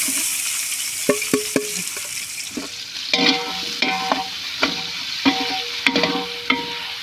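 Onions fry in oil for an Andhra-style basmati chicken biryani, giving a steady loud sizzle broken by repeated sharp scrapes and knocks of a spoon stirring the pan.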